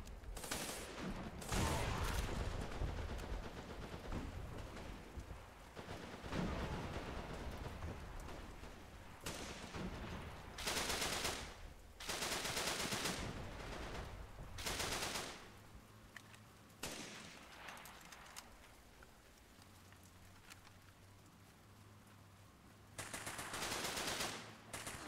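Gunfire in the video game Running With Rifles comes in repeated bursts of rapid automatic fire and single shots, loud and close, separated by quieter gaps.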